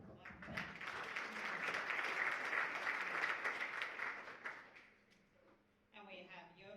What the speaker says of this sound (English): So we might want to clap for that.